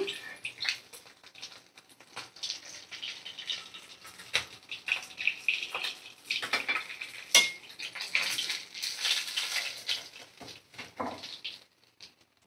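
Irregular scraping and clinking of a utensil against a metal pan as fried bata fish are lifted out, with a faint sizzle of hot oil underneath.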